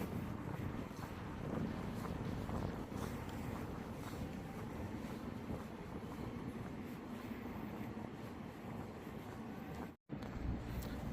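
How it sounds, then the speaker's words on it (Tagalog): Strong wind buffets the microphone in a constant, rumbling roar that drops out briefly near the end. "Malamig guys, mahangin."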